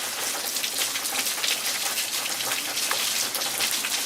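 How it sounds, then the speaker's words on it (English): A downpour comes down steadily in a yard, a dense, loud, even hiss of rain hitting surfaces without a break. "we got a nice rainstorm going on here"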